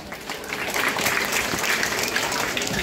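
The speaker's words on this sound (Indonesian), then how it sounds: "Mari tepuk tangan dulu." Applause from guests at a parish anniversary reception for St. Antonius Sarmi, a brief burst of many hands clapping that rises and holds steady, moderately loud with a faint crowd murmur.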